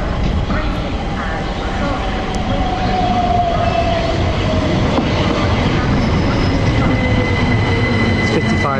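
A British Rail Class 455 train rolls along the rails in south London with a constant heavy rumble and rattle, wheels squealing faintly at times, loud and close throughout.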